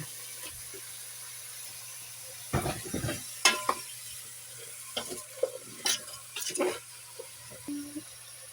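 Papaya pieces hit a hot pan for a tinola sauté, giving short bursts of sizzling and stirring scrapes over a quiet, steady hum.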